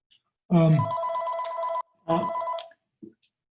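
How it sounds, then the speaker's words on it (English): An old-style telephone bell rings twice in short bursts, close and clear, with a brief pause between rings and a faint click at the end. "here's the phone, my wife will get it."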